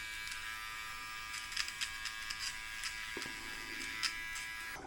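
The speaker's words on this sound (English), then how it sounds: "We're gonna do the nose trimmer first." The nose trimmer attachment of a GLAKER men's beard trimmer runs continuously with a thin, steady electric buzz, quiet and close. Small rattles and handling noises come and go on top of the buzz.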